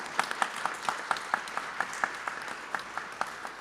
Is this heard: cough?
no